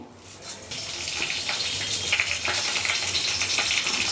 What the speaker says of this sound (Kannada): ಎಣ್ಣೆ ಕಾದೈತೆ, ಸಾಸಿವೆ ಹಾಕಿದ್ದೀನಿ, ಕರಿಬೇವು ಹಾಕ್ತಾಯಿದ್ದೀನಿ